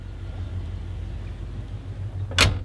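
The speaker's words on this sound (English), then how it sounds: "Let's close the door" A 1989 Jeep Grand Wagoneer idles with a low, steady rumble as its door swings shut near the end, a single short, solid thump over the engine.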